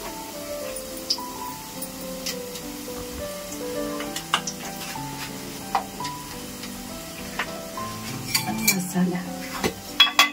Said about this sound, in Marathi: फोडणीला कढीपत्ता टाकला, कांदा टाकला आणि दोन तीन लसूणच्या पाकळ्या टाकल्या.